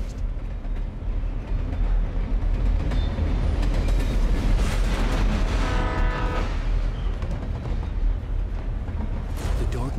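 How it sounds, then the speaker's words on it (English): A train rolls past in the game Alan Wake Remastered, a loud, continuous rumble filling the whole stretch, with a rhythmic clatter swelling near the middle before the noise carries on steadily. "Wait, is that a train?"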